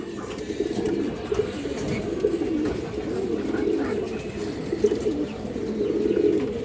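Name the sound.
green-necked pigeons cooing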